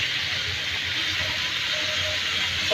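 Tomatoes coated in salt and turmeric hit a hot cooking pan, giving a steady, loud sizzling hiss that runs unbroken throughout.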